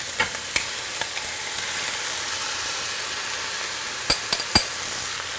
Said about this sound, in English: I'm going to go ahead and add my tomatoes.